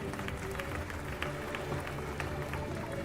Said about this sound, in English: Let's encourage him with a big round of applause.